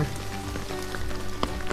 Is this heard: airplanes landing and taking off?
no